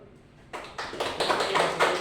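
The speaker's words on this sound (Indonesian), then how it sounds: "Tepuk tangan dulu." A classroom of students clapping hands during a physics micro-teaching lesson on Archimedes' law, starting after a brief pause and building into loud, rhythmic group claps with several distinct beats.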